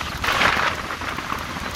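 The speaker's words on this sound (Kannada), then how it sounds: "Just enjoy this rain ambience." Heavy rain falling at the Sagarakatte backwater, a steady broadband hiss of downpour that stays loud and even from start to finish with no voices.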